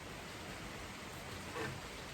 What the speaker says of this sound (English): And yes, that's rain you hear.